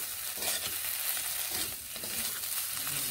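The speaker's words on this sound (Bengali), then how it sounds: "এবার ভালোভাবে এইভাবে মিশিয়ে নেড়ে নিচ্ছি।" Ridge gourd curry with roasted cumin powder being stirred in a hot pan, with a steady close sizzle and soft scraping turns of a spoon mixing the thick vegetables, no speech.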